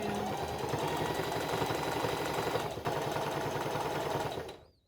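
A sewing machine stitches a seam around a DIY sugar glider cage pouch, running in a steady, close, fast mechanical whir for several seconds before slowing and stopping.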